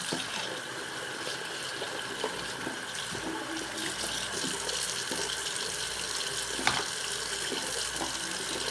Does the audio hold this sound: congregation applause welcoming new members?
no